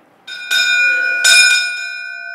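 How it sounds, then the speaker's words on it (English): A ship's bell cast for the submarine USS Montana, rung at a commissioning update event, gives two loud metallic strikes with bright ringing overtones that sustain and slowly decay, alone without talk. "lead the ringing for the first time officially in Montana of the Oro y Plata ship's bell"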